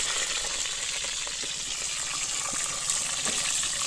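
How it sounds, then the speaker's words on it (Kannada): Water poured into a pot with onions for a fish curry, a steady hissing, sizzling gush with faint bubbling pops, continuous and close throughout. "ಉಳ್ಳಾಗಡ್ಡೆಯನ್ನು ಹಾಕಿದ್ದಾರೆ ಆಲ್ರೆಡಿ ನೀರನ್ನು ಹಾಕ್ತಿದ್ದಾರೆ"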